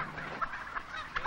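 Five-month-old turkeys in a run gobble in a few quick, warbling bursts, fairly faint and close together over a short stretch.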